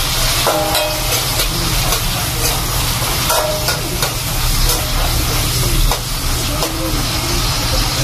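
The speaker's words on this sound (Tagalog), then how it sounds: "ito na yung ating panggisa. Unahin na natin yung kamatis." Chopped tomatoes sauté loudly in a hot pan, a dense, steady sizzle with the scrape and clatter of a utensil stirring them, close and constant throughout.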